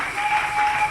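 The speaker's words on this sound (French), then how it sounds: "Acclamez pour les grands rois" A church congregation applauding, a steady, continuous wash of many hands clapping together with no pauses.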